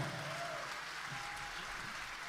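Theatre audience applauding the Sicily Pop Orchestra at a sold-out Christmas show, a dense steady wash of clapping held at even loudness throughout.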